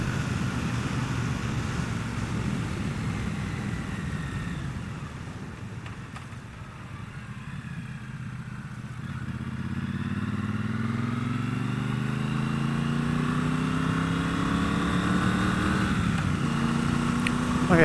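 Triumph Bobber motorcycle engine under way, a steady drone with a deep rumble that dips briefly, then rises in pitch as the throttle opens and the engine revs up, close and continuous with wind noise.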